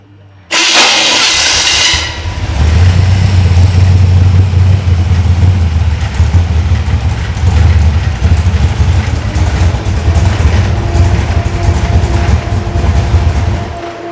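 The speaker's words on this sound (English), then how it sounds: "the engine fired up much faster after about that first crank" A car engine with FiTech EFI fuel injection cranks briefly, then catches and settles into a loud, steady idle with a low rumble that holds for the rest of the clip.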